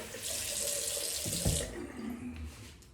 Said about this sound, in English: running the tap there